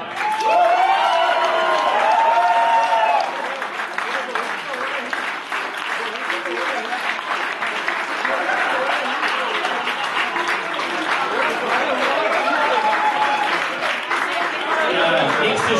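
Audience at a tavern event claps loudly and continuously with some cheering, a dense sustained wash of applause lasting throughout.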